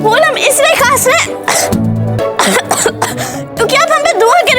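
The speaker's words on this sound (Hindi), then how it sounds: "अच्छा तो देखिए कैसे खांस रही हैं" A woman coughs several times in short bursts inside a staged historical drama scene, loud and close, with other voices and music around her.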